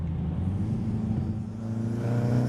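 A Mini Cooper S engine with a near-stock, mildly enhanced tone hums in a steady low drone, rising slightly toward the end, heard close and alone without talk.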